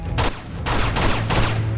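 Rapid, sustained automatic gunfire from a weapon in the video game Uncharted 2: Among Thieves, with bursts of shots and no voice over them.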